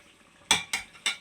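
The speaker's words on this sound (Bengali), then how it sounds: "ধুয়ে রাখা চালটি দিয়ে দিলাম।" Washed rice drops into a biryani pot of meat and potatoes with three quick, close rattling pours, each a sharp burst that fades quickly against a quiet kitchen background.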